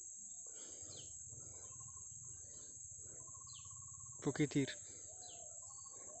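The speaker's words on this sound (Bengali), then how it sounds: "কত রকম পাখি ডাকছে, পাখির আওয়াজগুলো শুনুন" Several birds chirp and call in short, sweeping phrases beside a rice field, over a steady high insect drone, with a brief spoken voice partway through.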